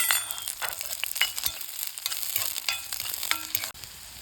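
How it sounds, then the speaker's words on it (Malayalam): Sliced large onion frying in hot oil in a pan, a soft steady sizzle with scattered light clinks and stirring scrapes, close and moderately quiet. "ആ ഉള്ളി നമുക്ക് അതിലേക്ക് ഇട്ട് കൊടുക്കാം. ഒന്ന് വാടട്ടെ."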